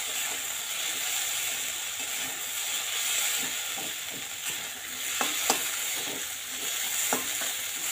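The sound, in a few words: stirring ghee into sabudana khichuri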